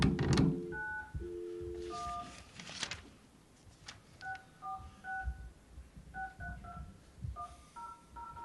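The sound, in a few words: telephone number being dialed, DTMF tones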